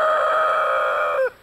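A Giant Dark Brahma rooster crows once, a single sustained harmonic call ending in a quick downward drop, close and clear against a quiet background.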